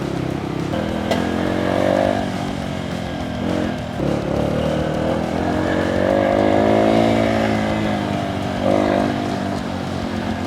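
A Honda CT125 motorcycle labors up a steep hill in first gear, its engine droning loud and close with a continuous strained whine that rises and dips slightly as it climbs.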